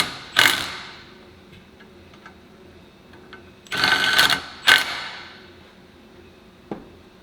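Socket wrench ratcheting and snugging down clutch bolts on a Can-Am primary and secondary clutch: a few short bursts of clicking, loudest near the start and in the middle, separated by quiet pauses.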